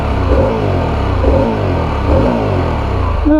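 A Harley-Davidson Pan America 1250 Special revs up loudly and close in three rising sweeps, each climbing in pitch and falling back, with no one speaking.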